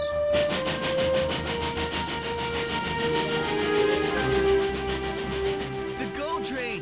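A rumbling train rolls past with sustained whining tones and a rhythmic pulsing clatter, steady and fairly loud throughout.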